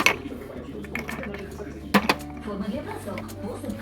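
Glass sugar bowls with spoons and plastic lids are handled on a store shelf, giving a few sharp glassy clinks and light knocks, with a voice talking over them.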